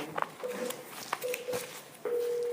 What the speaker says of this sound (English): Do we want to get Kristen on the phone